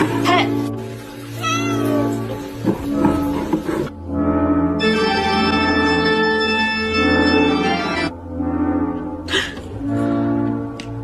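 A cat meows repeatedly up close, long drawn-out wails with short pauses between them.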